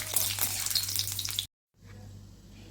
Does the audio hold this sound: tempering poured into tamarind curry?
yes